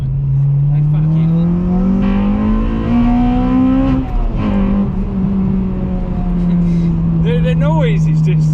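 A newly bought car's engine revs and climbs in pitch, peaking and then settling back to a steady drone, loud and close, with a brief squeal near the end.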